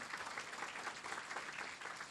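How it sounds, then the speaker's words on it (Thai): Faint, dense applause from a crowd, a steady wash of clapping heard from a distance. "ปรบมือกับกิฟฟรีอีกครั้งนะฮะ"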